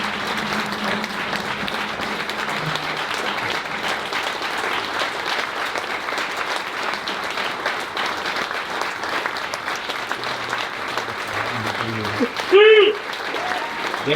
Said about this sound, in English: Everyone a round of applause for Andy